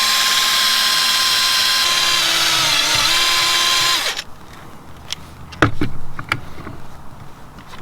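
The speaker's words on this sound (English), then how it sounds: "buffing wheel and drill." A small buffing wheel on a handheld drill polishing old gel coat, a loud steady whine for about four seconds that cuts off abruptly, followed by quieter knocks and handling sounds.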